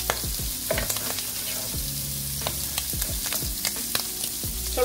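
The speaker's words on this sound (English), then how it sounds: "You gotta stir it." Sauce stirred in a frying pan for pan-seared salmon and shrimp with creamy sauce makes a constant sizzle. Repeated scraping strokes and clinks of the utensil sound close by, with no speech.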